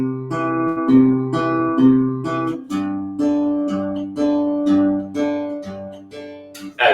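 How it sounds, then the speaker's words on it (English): An acoustic guitar bass line plucked with the thumb alone in Piedmont style: steady, evenly spaced low notes alternating in a walking pattern, clear and close, with no talk. "just the thumb would sound like this"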